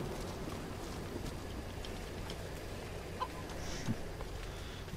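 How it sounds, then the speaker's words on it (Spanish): A chicken in the Tomb Raider video game gives a few soft, scattered clucks, faint and brief over a steady ambient background hum. "Una gallina, una gallina."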